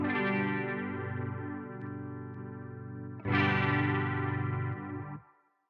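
Electric guitar run through a Kuassa Efektor chorus effect set to 100%, two sustained strummed chords ringing with a thick, wavering shimmer, played alone and loud before fading out at the end.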